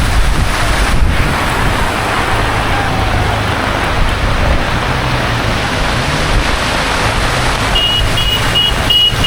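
Vehicles roll and splash through floodwater from heavy rain in Nalasopara, a continuous rushing wash, heavy and steady, with a distant horn beeping briefly near the end.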